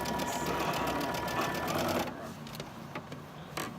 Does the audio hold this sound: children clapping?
no